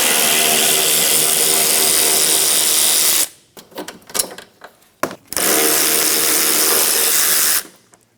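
Power tool running on a 10mm headlight bolt at the driver's side fender of a Nissan Altima, two long loud bursts of steady whirring separated by a short stretch of clicks and handling noise.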